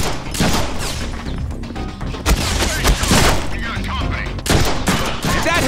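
Heavy weapons fire in the Deadpool video game, a dense continuous fusillade of rapid gunshots with loud bursts and crashes throughout.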